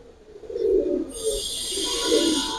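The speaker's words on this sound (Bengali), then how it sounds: "দুটা কবুতর টানা গলা কবুতর ভাই" Giribaz pigeons give two soft, rolling coos, separated by a short pause, close by, while a steady high hiss sets in partway through.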